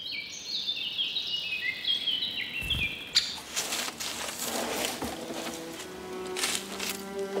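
A young spotted woodpecker gives a series of high, thin chirping calls in a woodland setting. They come close and fairly loud, first as a rapid run and then as scattered repeated notes over rustling background noise.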